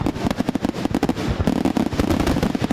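Fireworks set off during New Year's Eve celebrations, a rapid dense barrage of sharp overlapping bangs and crackles that continues without pause, loud and fairly close.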